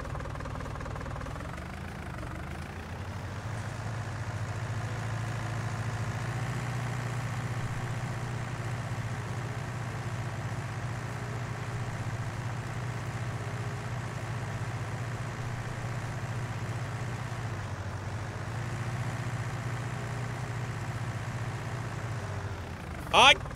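A tractor engine runs steadily throughout in a farming video game, a continuous low drone with a brief louder burst at the very end, with a voice talking over it.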